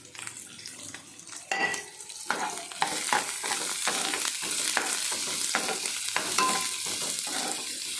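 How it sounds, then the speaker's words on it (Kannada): Onion, capsicum and other vegetables for pasta frying and being stirred in a pan, steady sizzle with repeated scraping and clinking of a utensil against the pan, no voices. "ಆಮೇಲೆ ಆನಿಯನ್ ಎಲ್ಲ ವೆಜಿಟೇಬಲ್ಸ್ ಹಾಕಿ ಸ್ವಲ್ಪ ಫ್ರೈ ಮಾಡ್ಕೋಬೇಕು"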